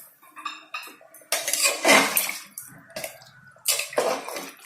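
Hot water poured into a pot of mutton curry, giving broadband splashing and pouring bursts with metallic pot clinks, loud and close, in uneven surges across the clip.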